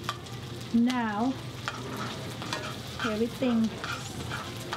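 Pad Thai ingredients, dry shrimp among them, sizzle and fry steadily in a hot wok, a continuous crackling hiss running under two short bursts of a man's speech.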